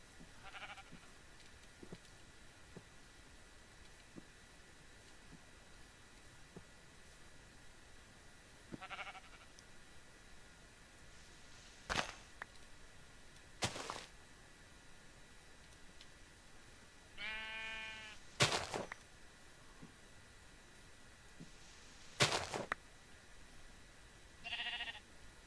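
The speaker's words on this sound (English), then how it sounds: "let's take the sheep upstairs" Sheep in the Minecraft modpack All The Mods 3 give several short, wavering bleats spread across a quiet stretch, joined by a few sharp clicks and taps, all fairly faint with no talking.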